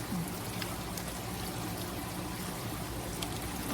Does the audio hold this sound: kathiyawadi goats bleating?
no